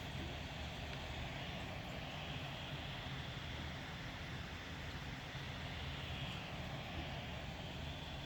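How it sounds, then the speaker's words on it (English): Dell G3 gaming laptop cooling fans spinning at maximum RPM, a steady, broad whooshing roar with no letup, fairly quiet and heard alone. "Now you can hear the fans cooling it down again"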